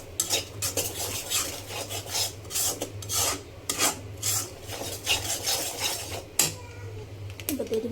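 Ground spices dry-roasting and being stirred in a pan while making jhal muri spice mix at home, a steady scraping and rasping of a spatula against the metal with soft sizzling, close and continuous with no talking.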